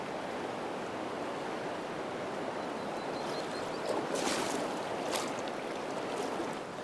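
Swift water in a small trout stream rushes in a steady, close hiss, with little waves splashing and surging briefly partway through.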